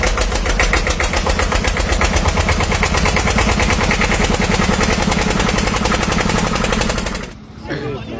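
A scooter engine runs close by at a duathlon event in Pokhara, a loud rapid chugging putter that holds steady for about seven seconds before it cuts off abruptly, leaving quieter ambient sound.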